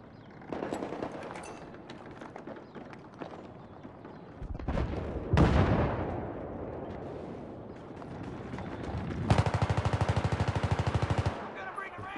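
Gunfire in Battlefield 3 on the Armored Shield map: scattered shots, then a heavy blast near the middle and a long, loud burst of rapid automatic fire near the end, amid close-quarters combat.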